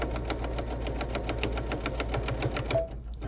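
A sewing machine zigzag-stitches a quilted mug rug, its needle clattering in a fast, even rhythm up close until it stops abruptly near the end.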